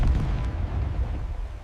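Cannon fire from a battle at Thi Nai lagoon in 1801, heard as a continuous loud, low rumbling barrage of booms with no clear gaps between them.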